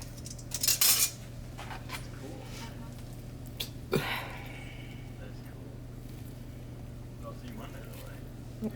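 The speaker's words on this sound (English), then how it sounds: "we're just gonna take our squash and scoop it out" A spoon scoops cooked squash out of its skin, giving a couple of brief metallic clinks and scrapes, one burst early and another midway, close by over a low kitchen hum with a voice faintly present.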